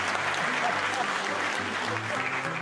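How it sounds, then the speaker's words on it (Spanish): A studio audience applauds on an Argentine radio and TV program, a continuous wash of clapping with a murmuring voice faintly underneath. "después vamos a aplaudir."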